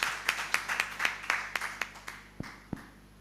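Scattered audience clapping at an association anniversary ceremony in Uganda, a dozen or so separate sharp claps spread unevenly over a few seconds, thin and moderately distant, with no voices.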